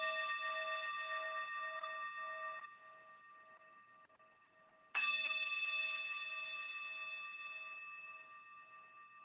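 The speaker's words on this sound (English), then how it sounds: "May the sound of the bell" A meditation bell is struck twice, each strike ringing out with a clear bright tone and a long, slowly fading shimmer in a quiet room.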